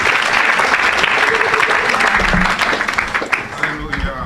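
A church congregation bursts into loud, sustained applause that fills the room steadily, with a voice speaking over the clapping.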